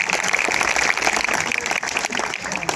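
Audience applause at a kavi sammelan poetry gathering in Jodhpur, a dense, steady patter of many hands clapping throughout, fairly loud, with faint voices mixed in.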